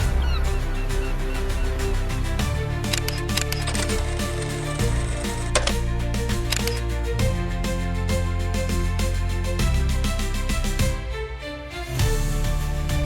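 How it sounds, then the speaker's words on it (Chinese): A flock of seagulls in winter in Qingdao calls loudly and continuously throughout, a dense overlapping chorus of squawks with no talking. "Смотри, мама, в Циндао тоже есть чайки"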